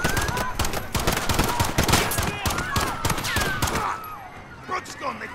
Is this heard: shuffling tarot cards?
no